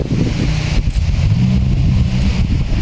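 Strong wind roars and buffets steadily, loud and blustery throughout with a deep rumbling low end.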